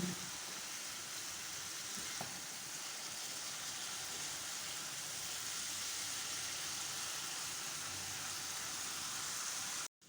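Masala and softened tomatoes frying in a pan for spicy green beans give a steady, hissing sizzle, even and continuous at moderate volume until it cuts off at the end.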